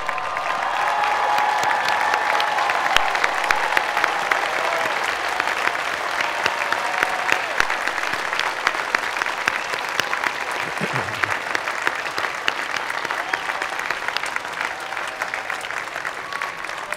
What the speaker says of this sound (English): I ask our students to turn around and give them the applause